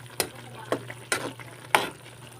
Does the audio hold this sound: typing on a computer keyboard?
no